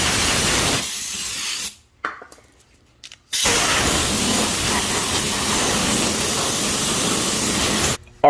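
Spray cleaner hissing onto a lawnmower's carburetor linkage: a loud, close spray lasting about a second, a short pause, then a longer continuous burst of several seconds and a brief final puff.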